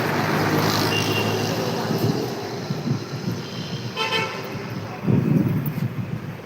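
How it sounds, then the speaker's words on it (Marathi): Busy morning street traffic with a steady roar of passing vehicles, a loud horn toot near the start and more honks scattered through, plus a brief bright horn burst around the middle and heavier rumble near the end. "तुम्ही बघू शकता सकाळी सकाळी किती ट्रॅफिक राहते"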